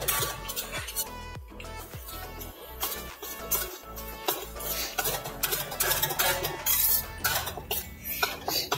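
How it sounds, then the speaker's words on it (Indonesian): A utensil stirs flour into melted margarine in a pan for a lasagna white sauce, with steady scraping and frequent metallic clinks of spoon against pan, close up and without talk. "Untuk buat saus putihnya kita lelehkan margarin. Masukkan tepung terigunya, kita aduk"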